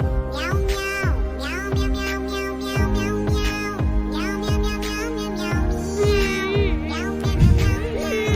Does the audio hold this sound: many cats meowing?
yes